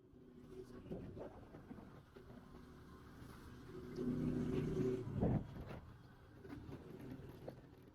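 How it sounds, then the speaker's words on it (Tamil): A vehicle engine labouring as it climbs a steep hill road, a low droning rumble that swells and strains midway, heard from inside with people talking over it. "ஜி வண்டி ஏற மாட்டேங்குது ஜி."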